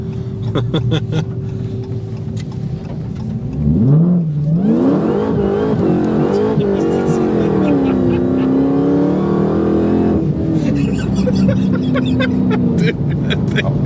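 A fast car's engine revs hard and climbs in pitch as it accelerates, a loud sustained roar running almost the whole time, with voices talking over it.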